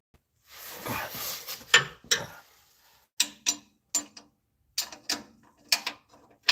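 Socket wrench tightening exhaust bolts under a 1996–2005 Chevy Astro AWD van, giving a brief rustle and then a series of sharp, close ratcheting clicks in short uneven bursts with pauses between.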